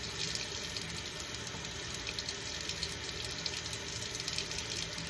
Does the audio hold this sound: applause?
no